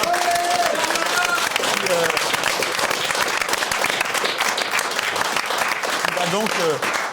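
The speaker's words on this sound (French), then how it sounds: "un tonnerre d'applaudissements" A crowd at a French talk-show evening bursts into loud, dense applause for the show's illustrator, clapping continuously with a few voices rising over it.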